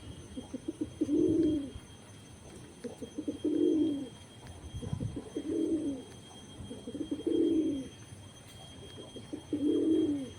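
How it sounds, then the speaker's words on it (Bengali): A wild pigeon coos nearby in five evenly spaced, low rolling calls, each about a second long, with quiet pauses between them. "জঙ্গলি পায়রা পেছনে দেখো গাইস ডাকাডাকি করছো"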